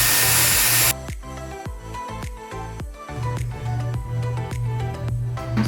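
A Dyson Airwrap hair styler blows a loud rush of air briefly, then shuts off. Clicks and handling sounds follow before a steady lower hum of airflow returns for the rest.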